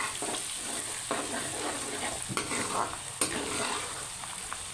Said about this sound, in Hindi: अब इसमें अदरक लहसुन का पेस्ट ऐड कर दें और इसे मिक्स कर लें।